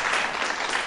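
A brief, even burst of audience clapping after Peter Carey's lecture on the Ratu Adil in modern Indonesian politics, a steady wash of many hands heard close and alone.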